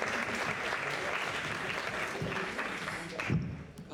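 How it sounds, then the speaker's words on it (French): An audience at a talent show applauds warmly, steady continuous clapping filling the room at moderate distance, with no voices rising above it. "On l'applaudit très chaleureusement."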